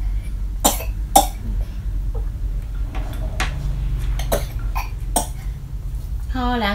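A person eating pork ribs braised with pineapple and coconut water coughs sharply several times in separate bursts, with quiet talk and faint clinking of dishes between the coughs.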